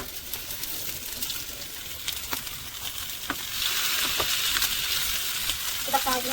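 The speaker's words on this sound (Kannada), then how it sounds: "ಸ್ವಲ್ಪ ಮಸಾಲೆ ಕೂಡ ಫ್ರೈ ಮಾಡುವ. ಸೆಕೆಂಡ್ 1 ಮೀನು ಇದನ್ನು ಕೂಡ ಇದು ಬಿಡುವ" Fish and masala frying in a pan give a quiet, steady sizzle that grows a little louder partway through, with a few soft clinks and stirring scrapes scattered across it.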